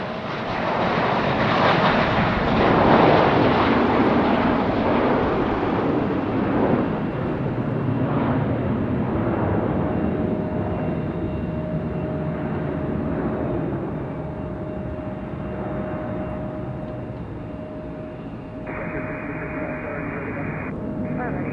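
An Airbus A321 airliner departs Raleigh Durham International Airport, its jet engines producing a loud, sustained roar that swells early and then slowly fades as it moves off, with a voice speaking over it at times.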